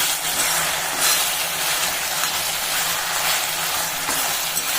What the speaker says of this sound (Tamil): வதங்கட்டும் நல்லா வதக்கி வெந்துடட்டும் எண்ணெயிலே வேகட்டும்